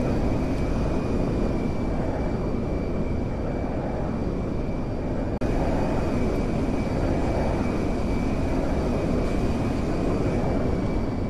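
Military transport aircraft descending on final approach to Fort Zancudo in GTA 5, a loud, steady engine drone with a faint high tone running throughout.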